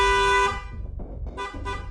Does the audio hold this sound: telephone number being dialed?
no